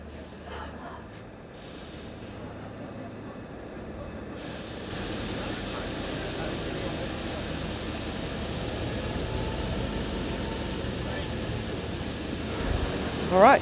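A train pulls into the platform of Belfast Grand Central station on opening day as a steady, broad rumble that swells after a few seconds and holds, ending in a brief high squeal.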